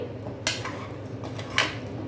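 Mutton nihari masala paste is mixed in a pot with a spoon, giving a few sharp metallic scrapes and clinks over a low background.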